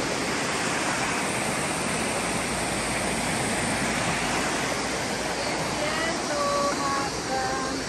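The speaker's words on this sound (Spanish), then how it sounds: "La cascada." A waterfall pours down a ravine into a river, a steady broad rushing hiss throughout, with faint bird chirps near the end.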